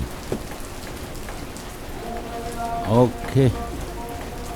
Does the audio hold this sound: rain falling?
yes